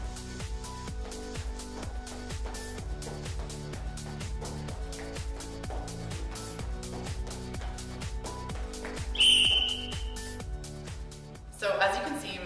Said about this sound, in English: before the whistle went